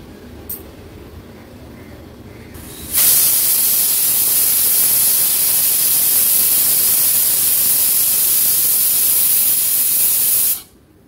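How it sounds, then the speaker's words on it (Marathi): A pressure cooker of chicken on a gas flame, set between high and medium, releases steam in a loud, sustained hissing whistle lasting about seven seconds, starting and stopping abruptly, with quiet kitchen room tone around it. "हे बघा, एक एक करून आपण 3 शिट्ट्या कुकरच्या काढून घेतल्या आहेत।"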